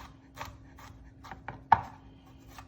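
A knife cuts venison into rough pieces on a board, giving a few soft, irregular chopping taps with one sharper knock near the middle, close and fairly quiet.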